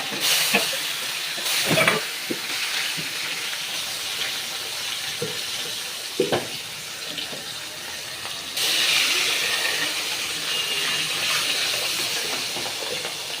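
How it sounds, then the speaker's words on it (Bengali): Pieces of katla fish frying in hot oil in a kadai, a loud continuous sizzle and hiss broken by sharp spattering pops, with the frying surging louder in the final seconds. "মাছগুলোকে ভেজে নিই।"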